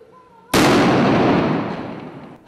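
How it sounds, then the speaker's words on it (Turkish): A wedding-dress mannequin blown up by a bomb disposal team with a blasting cap: one sudden loud blast followed by a long, broad roaring rumble that slowly fades over about two seconds. "Maket ise ertesi sabah bomba imha uzmanlarınca fünyeyle patlatıldı."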